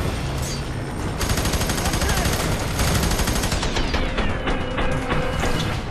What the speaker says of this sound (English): Let me shoot him through the cracks.